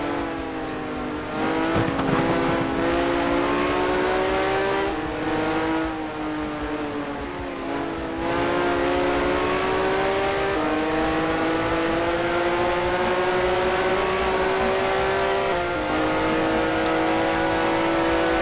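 Porsche 908-2 and 908-3 race cars howl around Monza in the GTR2 racing game, a loud, continuous high-revving engine drone with several distinct gear-shift steps, heard alone without voices.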